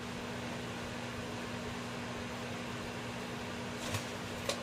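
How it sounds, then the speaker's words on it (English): A microwave oven heating a bowl of brown sugar scrub mixture hums steadily at a moderate level, with a faint constant tone and two brief clicks near the end. "Now I'm going to pop this in the microwave"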